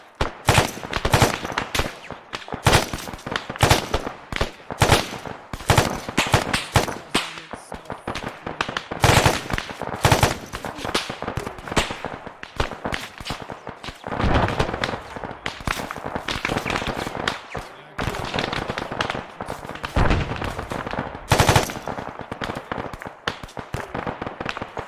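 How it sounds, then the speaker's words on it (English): Sustained gunfire in the military shooter game Squad, dense rapid bursts and single shots cracking loudly and continuously, near and far, with no pauses for nearly half a minute. "Might be taking fire direct south."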